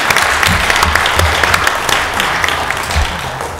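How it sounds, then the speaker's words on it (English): Dense round of applause from an audience at a Mobile, Alabama city council meeting, loud and sustained, a steady wash of many hands clapping throughout with a few faint voices mixed in. "Let's give them another big round of applause."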